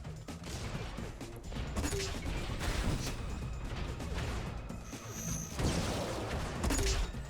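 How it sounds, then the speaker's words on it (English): Rockets launch and explode in the arena shooter Unreal Tournament during a competitive league match, a dense, busy stretch of blasts and mechanical weapon clatter at moderate loudness. "Ooh, rockets coming in."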